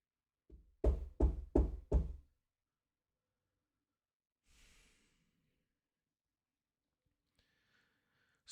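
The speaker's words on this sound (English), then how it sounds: "A loud knocking at the door woke me up." Four loud, heavy knocks on a door in quick succession, then silence broken by a faint breath or sigh.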